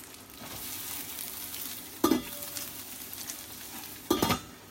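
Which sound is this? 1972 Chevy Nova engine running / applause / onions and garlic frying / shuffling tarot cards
onions and garlic frying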